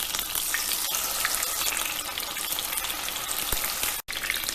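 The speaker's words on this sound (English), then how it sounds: "for shallow frying." Stuffed eggplant circles, each dipped in slurry, shallow fry in a pan with a steady, dense, close sizzle and crackle. The sound runs without a break except for one brief gap near the end, and no one speaks.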